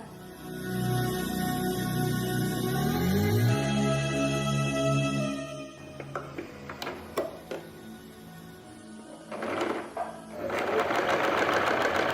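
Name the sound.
Singer sewing machine sewing vest armholes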